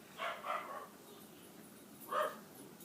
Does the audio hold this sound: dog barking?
yes